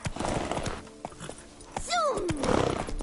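Horse hooves gallop in The Witcher 3 video game, a quick clip-clop rhythm mixed with a whinny and a voice shouting over the game sounds.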